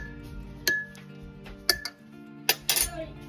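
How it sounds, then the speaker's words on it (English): A spoon swirls cucumber seeds around in a container of water, giving a handful of bright clinks and taps against the container, spaced irregularly over a soft background. "Okay, I'm gonna try this with a spoon. So I'm just gonna swirl this around"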